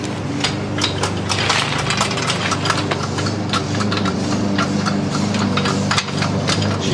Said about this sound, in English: James decided to give his Honda a run